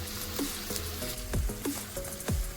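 Grated tomato sizzles in hot oil with prawns and ladyfinger, a steady frying hiss broken by repeated scraping stirs of a spoon against the pan.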